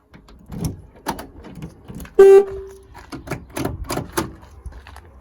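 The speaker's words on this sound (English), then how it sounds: "And now we'll just do a final test on the door lock, and then that should be job done. So now we'll lock it up." A Ford Transit MK7 van's door lock is operated, giving a loud mechanical clunk and whirr midway through, surrounded by several sharper clicks and knocks from the door hardware.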